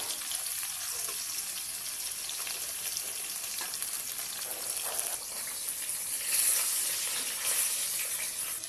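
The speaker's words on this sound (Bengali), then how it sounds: "এই মাছগুলো ভাজা হয়ে গেছে" Koi fish fry in oil with a steady, dense sizzle that runs the whole time, swelling a little louder toward the end, with no voices.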